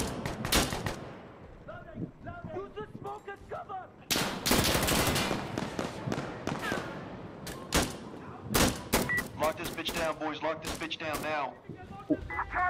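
Rapid automatic gunfire and single shots from an Insurgency match crack loudly in bursts, mixed with thuds and movement, while a player talks over the action.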